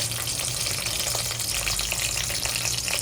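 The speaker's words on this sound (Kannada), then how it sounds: "ಈಗ ಫಸ್ಟ್ ನಾನು ಬೆಳ್ಳುಳ್ಳಿನ ಫ್ರೈ ಮಾಡ್ಕೊತೀನಿ ಆನಂತರ ಒಣಮೆಣ್ಸಿಕಾಯಿ ಹಾಕ್ಕೊತಾ ಇದ್ದೀನಿ" Garlic and dry red chillies fry in oil in a pan for an evening stew, giving a loud, dense, continuous crackling sizzle throughout with no speech.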